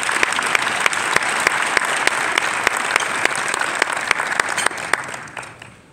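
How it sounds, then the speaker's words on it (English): A steady round of applause from a luncheon keynote audience, dense clapping with a few sharper individual claps standing out, tapering off at the end. "Everyone, please give Karen Freeman Wilson a round of applause."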